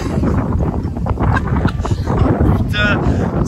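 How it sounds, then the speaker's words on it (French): Strong gusty wind on a Canary Islands beach buffets the microphone with a loud, rumbling roar throughout, and a voice briefly speaks under it. "il y a un vent de fou"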